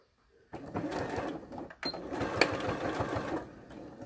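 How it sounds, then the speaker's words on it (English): A sewing machine stitches a lapped zip in short bursts, a quiet rapid mechanical chatter with a brief pause midway and small clicks, running under a little talk. "I want to stitch close to that folded edge now. So I'm going to go back to the machine"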